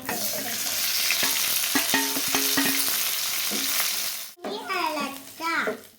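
Sliced onions and curry leaves fry in oil in a pan, making a loud continuous sizzle with clinks of stirring, then a sudden break and a short stretch of voices talking.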